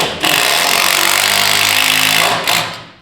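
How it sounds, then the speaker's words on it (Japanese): A power drill whirs loudly and continuously up close, boring a pilot hole into a wooden post, then briefly dips and spins up again before stopping. "そういう時はドリルで一回下穴開けて"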